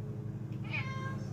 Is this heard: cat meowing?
yes